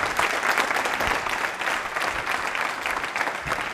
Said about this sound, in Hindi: पंकज जी, तालियां जोरों से बजाइए आपके लिए।